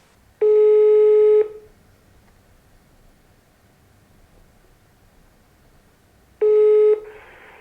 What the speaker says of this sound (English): And yeah, let's make those phone calls.